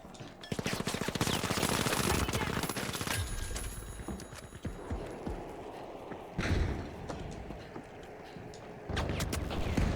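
Rapid gunfire in The Finals video game, dense bursts of automatic shots and impacts, loud and close, with scattered single shots and explosive bangs later on.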